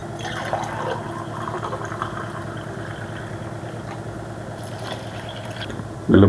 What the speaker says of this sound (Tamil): நான் தேவையான அளவு தண்ணி சேர்த்துக்கிறேன்.